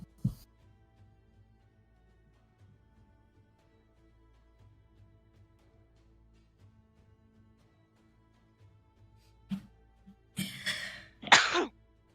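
A sneeze bursts out near the end, a short, sharp, close sound after a mostly quiet stretch with faint room noise and a small knock at the start.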